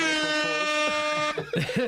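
A loud, sustained air horn blares for over a second, then cuts off as voices and laughter break in.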